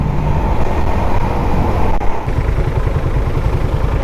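A carbureted Suzuki Raider 150 motorcycle engine running close by: a steady, rough low rumble with rapid pulsing that continues throughout without pause, with no speech over it.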